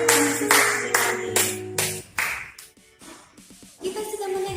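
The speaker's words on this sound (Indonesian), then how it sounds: "Tepuk tangan buat Tuhan Yesus sekali lagi" A congregation at a church service claps their hands in a burst of applause. Bursts of rhythmic claps ring out near and fairly loud alongside a voice, then fade into scattered claps and murmuring.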